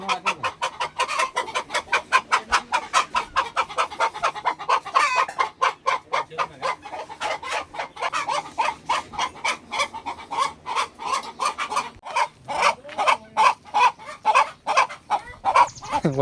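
A village hen clucks in a rapid, rhythmic series of close, clear clucks that keeps going throughout, with a short pause near the end before the clucking resumes.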